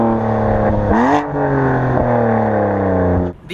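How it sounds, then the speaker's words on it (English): BMW M4 with a 7-speed DCT, Dinan cans and a Remus straight-pipe mid-pipe active exhaust revs loudly and close, two sharp blips climbing then settling into a steady growl before cutting off. "We've got Dinan cans and a Remus straight pipe mid-pipe with active exhaust."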